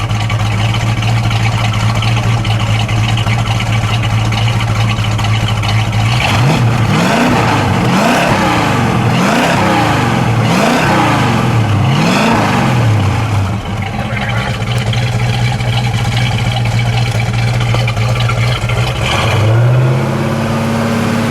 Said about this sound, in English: Let's get our exhaust now.